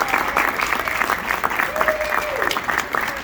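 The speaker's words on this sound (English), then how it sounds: "Can we get another round of applause?" Steady, loud crowd applause at a book signing event in East Norriton, Pennsylvania, continuous clapping with cheers and voices mixed through it.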